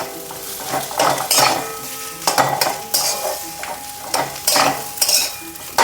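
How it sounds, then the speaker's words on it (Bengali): Potato filling for aloo paratha is stirred and fried in a pan with a spatula, giving repeated scraping, clinking strokes over a steady sizzle, close and fairly loud, with no talking. "একটু খন্তিতে ভালো করে নেড়ে নেড়ে নেড়ে নেড়ে এটাকে ভেজে নেবেন"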